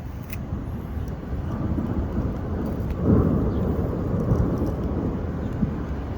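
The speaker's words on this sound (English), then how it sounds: "You can hear the thunder in the background." Thunder rumbles outdoors on a cloudy, drizzly day, a steady low roll with a heavier swell midway through, mixed with soft rain hiss and no talking.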